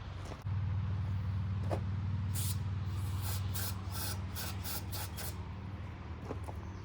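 A riding mower's small engine, long unused, catches on starting fluid and runs steadily at a low rumble, with a faint hissing spray near the start and light clicks over the idle.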